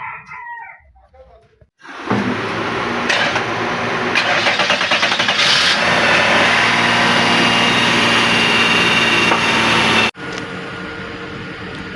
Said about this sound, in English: we are going to start the vehicle right now and see how it would work